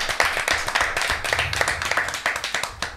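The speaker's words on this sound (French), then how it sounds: "Et ben là, ça aussi, ça s'applaudit." Brief applause from a small group, a few seconds of dense, close hand clapping with an uneven rhythm, and a faint voice underneath.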